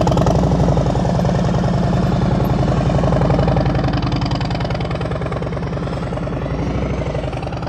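Motorcycle engine at low speed during slow-speed riding skills practice in Ohio, a steady loping idle-like rumble with rhythmic pulsing, close and continuous throughout with slight rises and falls in revs, no talking.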